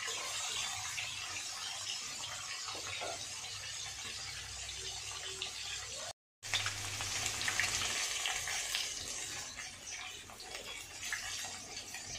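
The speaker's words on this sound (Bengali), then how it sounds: "আমার এই মাছগুলো ভাজা হয়ে গেছে" A steady crackling sizzle of fish frying in a pan continues throughout, with a brief break in the middle.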